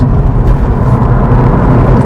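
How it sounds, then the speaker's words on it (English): Steady low rumble of road and tire noise with a soft rush of wind, heard from inside a moving Subaru WRX, continuous and even throughout. "You can definitely hear the air outside, the noise of the tires."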